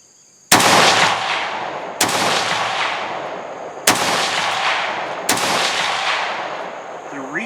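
Four loud, close rifle shots at even intervals from an SG550-1 sniper rifle firing Swiss Ordnance ammunition off a bipod at an outdoor range, each with a long fading echo.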